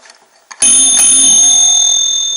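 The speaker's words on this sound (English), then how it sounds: "could you please do that again when I hit this bell?" A single bright bell strike rings out loudly and sustains with a clear, slowly fading metallic tone.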